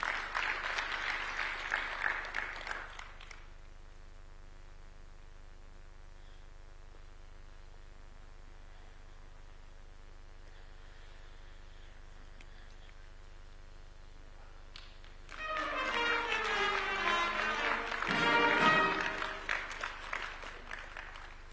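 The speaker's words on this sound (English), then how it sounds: "A round of applause for him, please." Audience applause at a Supreme Court judge's swearing-in, a short burst of clapping that fades, a long humming lull, then a second swell of applause mixed with voices.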